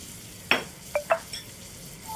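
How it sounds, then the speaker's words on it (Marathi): Makhana (fox nuts) roasting in a little butter or ghee in a pan, with a few quiet scraping stirs and light clinks of a spatula against the pan over a faint background. "आता ही मखाणे आपण छान मंदाचेवर व्यवस्थित भाजून घेणार आहोत"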